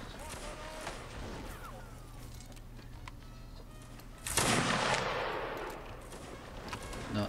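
Gunfire in the Napoleonic Wars mod of Mount and Blade Warband, with scattered distant shots followed by a loud close volley and crackling musket fire that lingers and trails off.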